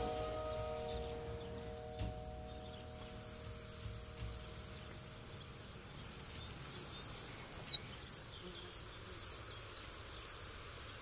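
High, thin peeping calls from pheasant chicks in a damp wheat field come as a few isolated chirps, then a run of four evenly spaced peeps, then one more, over a faint low outdoor hum.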